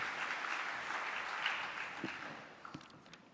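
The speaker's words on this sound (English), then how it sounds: "Please give them a round of applause." An audience at a conference on future jobs and skills gives a round of applause, a dense, even clapping that holds for a couple of seconds, then thins out and fades with a few last claps.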